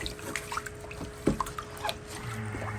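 Water trickles and drips while aquarium decorations are rinsed off, with soft splashes and a few brief louder drips close by; quiet and steady, with no talking.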